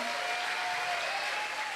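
A church congregation applauds at an Easter Sunday service, with steady, dense clapping throughout and a faint sustained tone running underneath.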